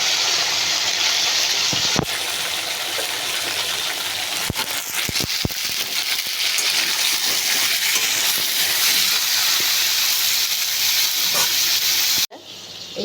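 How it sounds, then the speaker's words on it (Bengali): Spiny gourd (kakrol) pieces fry with salt and turmeric, giving a loud, dense, continuous hiss close by with a few sharp clatters, before cutting off abruptly near the end. "একটু পরিমাণ মতো নুন আর একটু হলুদ দিয়ে কাঁকরোলগুলোকে লাল লাল করে ভেজে নেবো।"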